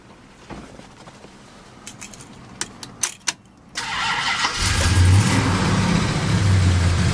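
A 1970 Plymouth Road Runner Superbird in Limelight Green cranks over with a few clicks and whirs, then its engine fires and settles into a loud, deep, rumbling idle close by.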